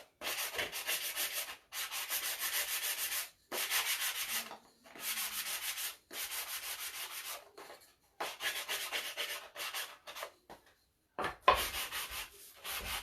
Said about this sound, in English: so then let's sand this a little bit.